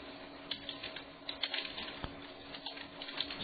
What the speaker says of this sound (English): typing that into the show notes too